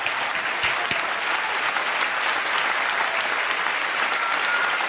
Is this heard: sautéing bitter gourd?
no